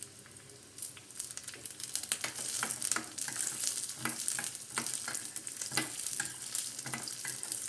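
Cashew pieces frying in hot ghee alongside coconut bits for a Vinayaka Chavithi dish, a steady close sizzle with crackling pops and occasional stirring clicks throughout.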